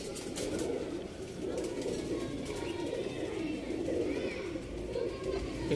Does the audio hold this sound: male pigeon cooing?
yes